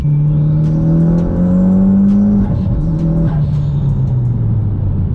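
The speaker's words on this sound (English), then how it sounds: "The turbo sounds really good on this car." A turbocharged Mitsubishi Evo engine revs hard nearby, a loud, strained drone that rises in pitch, dips, then climbs again, with no speech over it.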